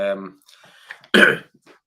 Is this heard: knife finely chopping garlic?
no